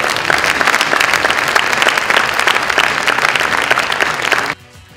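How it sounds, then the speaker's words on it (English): A stage hypnotist's audience gives loud, dense applause that holds steady for several seconds before stopping abruptly. "Give her a round of applause"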